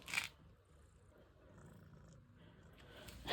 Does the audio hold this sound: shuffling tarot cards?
no